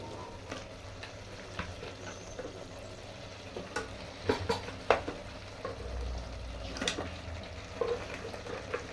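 Meat pieces added to a pan with ginger garlic paste, sizzling and frying steadily while a spoon scrapes and clinks against the pan at irregular moments.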